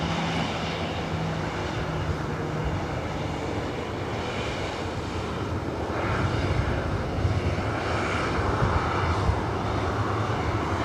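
Loud airliner engines roar steadily at LAX, a broad continuous rumble that swells and grows louder about halfway through as the aircraft passes close, with wind buffeting the microphone.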